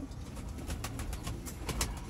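Sialkoti VIP Chuhe pigeons coo softly in a quiet run of repeated low calls, faint and unaccompanied by talk.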